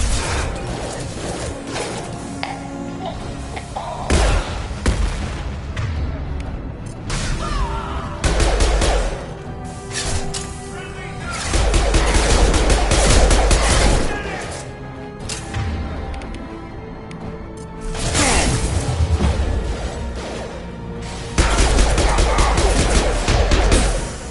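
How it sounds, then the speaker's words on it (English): An impact gun fires in Mass Effect 2. Loud, heavy mechanical bursts come in repeated waves of ratcheting, clanking blasts over dense game noise, with brief lulls between volleys. "Firing an impact gun!"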